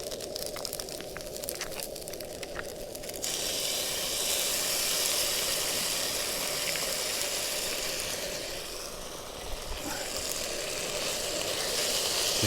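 Chow mein stir fry sauce poured into a hot pan on a portable camping stove, breaking into a loud, steady sizzle and hiss that carries on at close range with no one talking.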